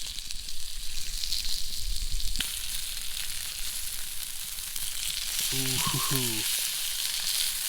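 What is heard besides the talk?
trout and steak sizzling on a hot rock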